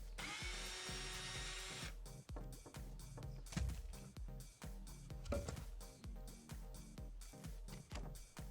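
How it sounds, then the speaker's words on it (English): A power drill bores pilot holes for screws while building hanging cedar planters: a close, high whine for about two seconds, then a run of short, sharp knocks and bursts. "be sure to drill pilot holes first"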